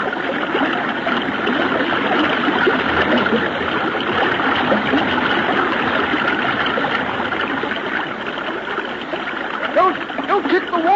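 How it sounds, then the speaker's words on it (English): A river current rushes steadily around swimmers drifting downstream, a continuous close wash of flowing water broken by small splashes. "When I let go of this limb, I'll let the current take us downstream."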